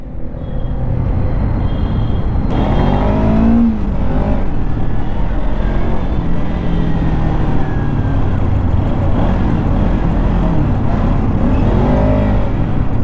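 A 2023 Kawasaki Ninja 300 motorcycle is ridden with the throttle worked, its engine note climbing and falling in pitch through several revs over steady road and wind noise. Nobody speaks.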